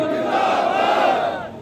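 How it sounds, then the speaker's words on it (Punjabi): A crowd at an Akali party workers' meeting shouts a Sikh jakara slogan in one loud, unified burst that swells and then fades within about two seconds. "ਜਕਾਰਾ ਬੁਲਾਉਣ ਲੱਗਿਆ, ਦੋਨੋਂ ਹੱਥ ਖੜੇ ਕਰਕੇ ਸਾਰਿਆਂ ਨੇ"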